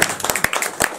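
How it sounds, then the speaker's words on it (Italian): An audience applauds at an Italian cultural salon evening, with a quick burst of several sharp, close claps over about a second. "Un applauso alla chimica."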